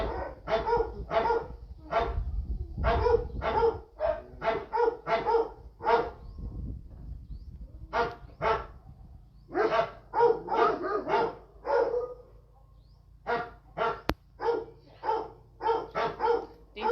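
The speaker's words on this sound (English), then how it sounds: "more barking at the fact that no one's with her" A dog left alone at an animal sanctuary barks over and over in quick, loud bursts with short pauses, continuing steadily for a long stretch with no one talking.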